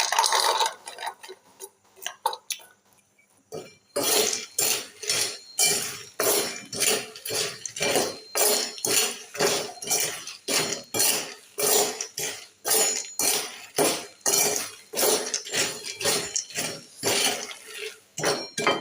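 Peanuts roast in hot sand in a pan, stirred in a fast steady rhythm of gritty scraping strokes that repeat closely for a long stretch after a quieter opening.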